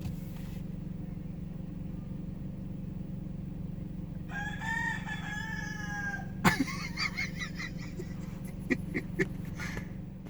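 A rooster crows once in a long wavering call from a tree in a parking lot in Key Largo, followed by a few short clucks over a steady low traffic hum, moderately distant.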